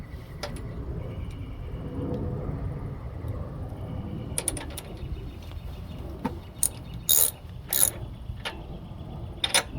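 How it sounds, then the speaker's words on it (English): A spark plug is threaded into a Poulan Pro lawn mower engine, giving scattered sharp metallic ratcheting clicks and taps over a steady low background hum. "I'm going to put the spark plug in"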